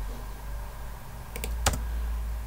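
Brief run of computer keyboard keystrokes, a few quick clicks in a short burst while code is typed for an Umbraco CMS website, close and moderately quiet over a steady background hum.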